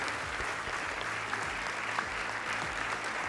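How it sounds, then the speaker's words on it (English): A standing audience at the Globe Soccer Awards 2025 ceremony applauds in a dense, sustained wash of clapping, loud and continuous with no pauses. "Emotional moment, as shown by everyone on their feet applauding Diogo's parents."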